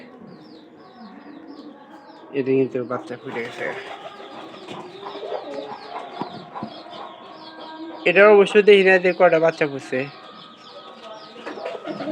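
Domestic pigeons in a coop with newly hatched chicks coo in soft, throaty, rolling bursts close by, loudest toward the end, while someone talks over and between the calls.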